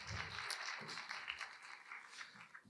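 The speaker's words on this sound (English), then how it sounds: "Big round of applause." Audience applause at a business leadership talk, a moderate wash of clapping lasting under three seconds, fairly steady throughout without talk.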